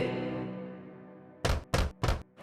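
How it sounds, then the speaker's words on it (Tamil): Three firm knocks on a cottage door, a wolf's knock in a Tamil children's story, come in quick succession after a fading musical tone, close and dry with short gaps between them. "எனவே அது மீண்டும் குடிசைக்கு சென்று கதவை தட்டியது."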